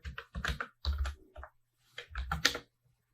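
Keys tapped on a computer keyboard while entering a package install command, close bursts of quick clicks in two clusters separated by short pauses.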